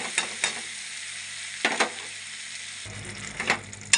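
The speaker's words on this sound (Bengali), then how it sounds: "এই যে পেঁয়াজ আর টমেটো ভাজা হয়ে গেছে আমি এখন এর উপরে মশলাগুলো দিয়ে দেব সব মশলা দিয়ে দেব" Onion and tomato fry with spices in a pan, a steady sizzle punctuated by several scraping stirs and a louder burst of frying near the end.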